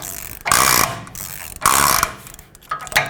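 A ratchet clicks loudly in repeated bursts as a wheel bearing nut on a 2008-2010 Ford F-250 rear axle is backed off, the rapid pawl chatter coming close and alone in about three separate pulls.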